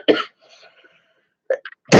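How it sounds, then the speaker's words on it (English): A person's cough is heard, starting with one sharp burst, then a quiet gap with faint background tones, then a few short coughs or throat sounds. A loud final cough cuts in at the end. "You'll have to excuse my coughing."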